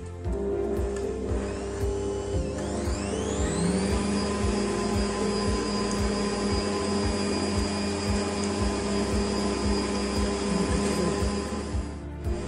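Electric hand mixer whisking egg whites with a pinch of salt for a yogurt cake, a steady loud whirring motor that rises in pitch after the first few seconds, then holds continuously with rhythmic beater clatter, no talking.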